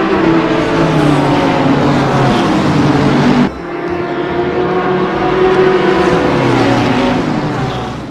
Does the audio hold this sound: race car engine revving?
yes